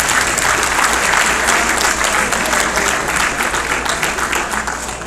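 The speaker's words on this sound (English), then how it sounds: "give yourself a round of applause" Audience at a 2021 fundraiser gives a sustained round of applause, a dense, even wash of many hands clapping that stays steady and slowly tapers toward the end.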